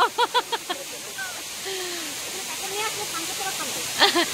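Steady rushing hiss of Sirki Waterfall near Pasighat, Arunachal, a constant wash of falling water with people talking over it and a few short bright calls near the start and end.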